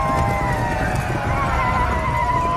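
Several horses whinny and neigh amid a dense, loud rumble of hooves and battle din as Dothraki riders charge the Lannister army in a Game of Thrones episode, sustained throughout.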